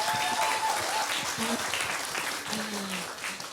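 A small group claps in a podcast studio, brisk applause carrying on under cheerful talk and a few vocal tones.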